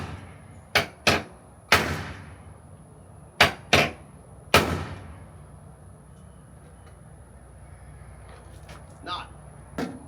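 Hammer blows on drilled-out bolts of a Nissan Altima body during door and trunk removal: six sharp metallic strikes in two quick groups, close and loud with ringing decay, then a quieter stretch with faint knocks, a voice talking in between.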